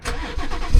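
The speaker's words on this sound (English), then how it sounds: "Give y'all boys a cold start." Car engine cold start, a brief, loud, close cranking whir that catches and swells into a rough rumble at the end.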